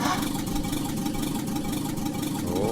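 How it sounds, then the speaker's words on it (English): A car engine in The Long Drive turns over and settles into a steady, loud, continuous running drone that fills the whole stretch without pause. "let's go ahead and start the engine up."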